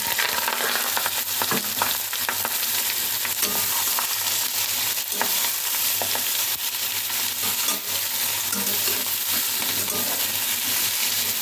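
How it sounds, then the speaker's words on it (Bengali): Pieces of ash gourd go into a hot pan with whole cumin for a Bengali chalkumro ghonto. A loud, steady sizzle of frying runs the whole time, with stirring scrapes and clinks on top and no talk. "এবার আমি চাল কুমড়োগুলোকে দিয়ে দেবো।"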